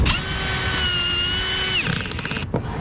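A power drill drives screws into a metal roof during a leak repair, giving a steady high motor whine that ends in a quick rattling, clutch-like clicking burst, loud and close.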